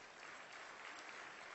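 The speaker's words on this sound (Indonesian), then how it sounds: "Berikan tepuk tangan yang meriah." An audience at a church sermon breaks into steady applause, a dense, even patter of many hands clapping, faint and distant throughout.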